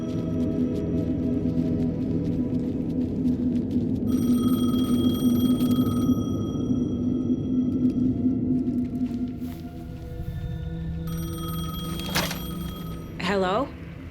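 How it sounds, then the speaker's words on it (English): A payphone rings in the video game Alan Wake 2, repeated bell-like tones over a dense, droning game soundscape with a low rumbling bed throughout. "The payphone was ringing."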